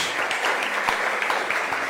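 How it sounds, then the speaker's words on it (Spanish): Church congregation clapping in praise of Jesus during a sermon, steady dense applause throughout with a few sharper claps rising above it. "Dale una ofrenda de palmas a Jesús."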